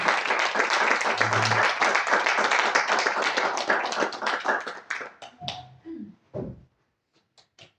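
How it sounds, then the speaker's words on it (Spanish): Audience at an academic induction ceremony applauds for the coordinator, a dense crowd of hands that thins out after about five seconds into a few scattered claps and then silence, with a brief murmur near the end. "Un fuerte aplauso, por favor, para la coordinadora."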